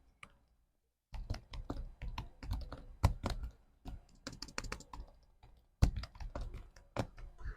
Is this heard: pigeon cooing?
no